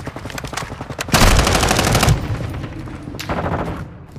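Machine guns in Modern Warfare 2 multiplayer rattle off loud, rapid bursts of automatic fire, one long dense volley in the middle with shorter bursts before and after, with no talking.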